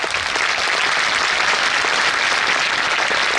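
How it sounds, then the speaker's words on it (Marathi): Loud, sustained applause from an audience at a school's annual social gathering, dense and steady clapping filling the room throughout with no break. "हो द्या जोरदार. काना कोपरा दुमदुमून निघाला पाहिजे."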